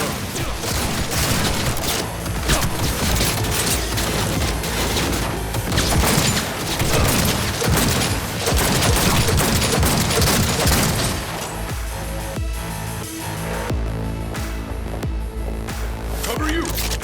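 Minigun gunfire in Cyberpunk 2077 hammers out in dense, loud, sustained bursts mixed with booms and combat noise, then eases into a lower mechanical hum. Voices call out over the firing.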